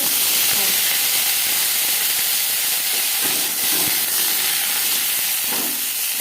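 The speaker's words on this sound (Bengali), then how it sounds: "ফোড়নে দিয়ে দিলাম একটা শুকনো লঙ্কা পাঁচফোড়ন।" Dried red chilli pieces and panch phoron sizzle in hot oil for a green mango sweet chutney, a steady, loud broadband hiss with faint crackles and no speech.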